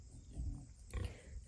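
Piglets and their mother out on a homestead pasture give two close, low grunting snorts about half a second apart.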